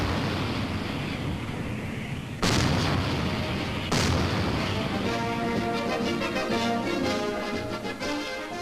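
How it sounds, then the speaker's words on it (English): A ceremonial artillery gun salute at a U.S. Army compound in Germany in 1966 sounds as two loud booming blasts a second and a half apart, set against steady, rumbling background noise. "guns explode, not in anger, but as a ceremonial gesture"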